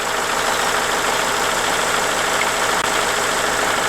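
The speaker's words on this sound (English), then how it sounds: "You can hear the air compressor in the background." A steady, unbroken mechanical drone from an air compressor runs continuously beside a 22-ton air-powered hydraulic floor jack, filling the space at constant level with no talking.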